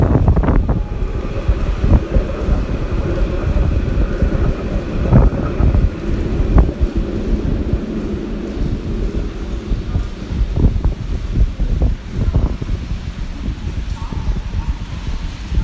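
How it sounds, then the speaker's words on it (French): Steady wind buffets the microphone in a constant roar at a railway station, with scattered pattering and knocks of rain, loud and continuous throughout. "Encore la pluie, bon, ça va. Mais avec le vent"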